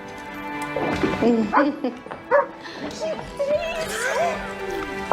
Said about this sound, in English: you got us a dog? This is Mickey